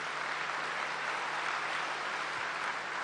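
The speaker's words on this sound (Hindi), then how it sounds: "ताली बजाइए, ताली बजाइए" Steady crowd applause from an audience at a spiritual discourse gathering, dense and continuous for about three seconds with no talking over it.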